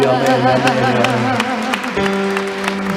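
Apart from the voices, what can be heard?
church congregation applauding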